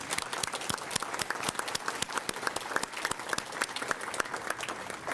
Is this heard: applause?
yes